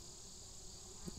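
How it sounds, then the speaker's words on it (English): Honey bees hum at a hive entrance in a steady, continuous drone, close and moderately loud for over a second with no talk, a faint thump near the end. "See all them bees?"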